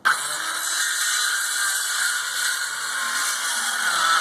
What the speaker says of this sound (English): I'm basically just going to saw off this whole edge here,